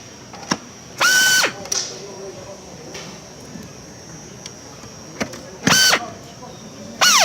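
Screws driven back in with a power drill to secure a CXO seat mechanism: several short, loud whirring bursts of the drill separated by quiet pauses, close up.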